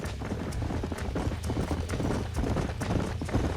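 Hooves of a herd of horses in the Red Dead Redemption video game clip-clop steadily, many overlapping footfalls in a quick, uneven rhythm that stays loud throughout.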